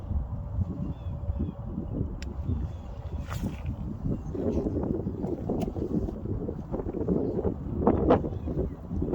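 Wind gusts across the microphone while fishing outdoors in the rain, a steady low rumble and buffeting that swells and eases throughout, with occasional faint knocks and light splashes mixed in.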